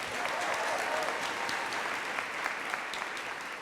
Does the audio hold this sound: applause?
yes